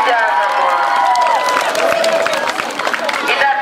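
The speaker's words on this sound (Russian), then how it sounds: "Аплодисменты" Crowd at a children's summer camp opening ceremony, a loud mass of voices cheering and shouting with some clapping mixed in, close and lively throughout.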